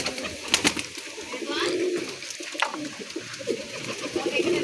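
Pet pigeons coo in soft rolling bursts nearby, overlapping throaty calls rising and falling for a few seconds with faint background noise.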